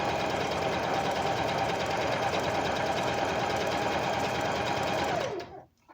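Domestic sewing machine, such as a Singer or Bernina, stitching steadily at a fast, even rhythm, loud and close, running continuously before stopping abruptly near the end.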